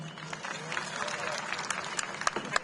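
Dense applause from the audience at a Vijayadashami (Dussehra) function held at the Indore police lines, a steady wash of many hands clapping at moderate volume with a few sharper claps standing out near the end.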